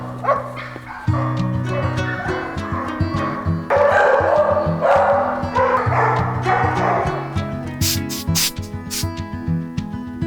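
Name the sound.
puppies barking and whimpering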